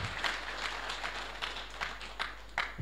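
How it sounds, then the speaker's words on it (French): A crowd at a graduation ceremony for hydrology engineers applauds in honour of Burkina Faso. The clapping is steady and moderately distant, with a low electrical hum underneath and occasional sharper individual claps. "Je vous demande d'applaudir très très fort le Burkina Faso."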